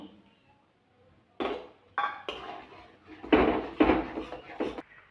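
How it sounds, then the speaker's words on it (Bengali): A metal wok is set down on a gas stove, giving several sharp clanks and scrapes of metal on the grate in a kitchen, with a few louder knocks near the end. "গ্যাসটা জেলে কড়াটা বসিয়ে দিয়েছি"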